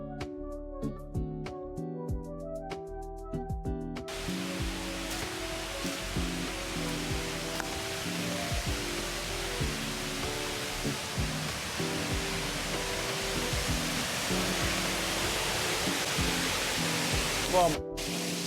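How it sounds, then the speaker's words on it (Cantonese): A waterfall and river on a hillside trail rush in a loud, steady wash that fills the scene. Music plays at the start before the roar takes over. "聽到啲瀑布聲"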